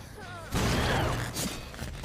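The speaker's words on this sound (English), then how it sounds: "Big explosion." A big explosion goes off in a PS5 survival horror killer game, a sudden loud broadband burst with a crackling, shattering tail that rolls on for over a second.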